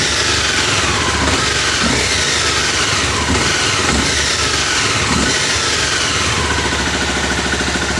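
A Honda CBR 250R motorcycle engine, its throttle body freshly cleaned, is revved repeatedly, loud and close, with the pitch rising and falling over a rough idle.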